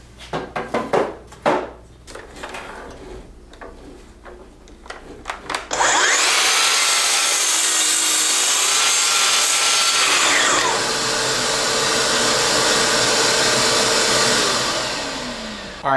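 A power saw spins up and cuts through the bad end of a wooden board in a workshop, a loud sustained whining cut lasting several seconds before winding down, preceded by a few knocks.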